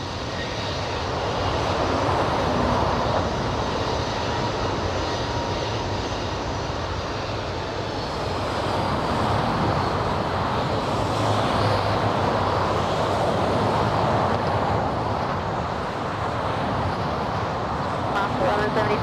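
A Southwest Boeing 737 airliner at LAX gives a loud, steady jet roar that swells and holds throughout, with faint voices partly under it.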